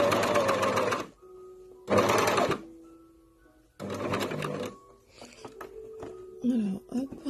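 A sewing machine stitching black fabric in close, loud bursts of rapid mechanical chatter, three main runs separated by short pauses with light handling noises in between.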